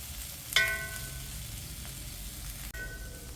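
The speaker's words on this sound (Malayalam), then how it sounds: "ഇത് നന്നായിട്ട് ഫ്രൈ ആയി വന്നിട്ടുണ്ട്" Broccoli and potato masala frying in a pan, a steady soft sizzle that holds at low level throughout, with a brief clink near the start and no voices.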